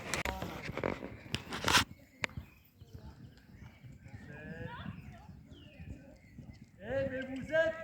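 A horse trotting after a jump during a show-jumping session, soft rhythmic hoofbeats on the ground under a person talking, with a few louder knocks early on.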